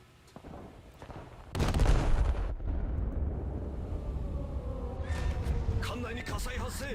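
Big naval ship guns fire in a video game: a sudden heavy boom followed by a long rumbling roar, then further sharp crackling impacts, with a player talking over it.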